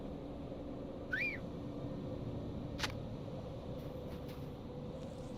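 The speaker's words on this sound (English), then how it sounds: "Let me dismount and just see what happens if I blow the whistle." In the online game Lord of the Rings Online, a whistle is blown to call a cow, giving one short, bright, rising-and-falling chirp over a quiet ambient background, followed by a few faint clicks.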